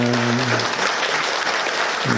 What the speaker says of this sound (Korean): 다시 한번 뜨거운 박수 환영하겠습니다.